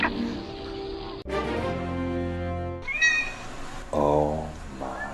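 A cat behind a window pane meows repeatedly at a mountain lion outside, caught on a doorbell camera; several close, drawn-out calls come in quick succession.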